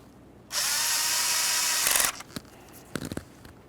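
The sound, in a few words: tightening a 10mm bolt on Nissan Altima intake manifold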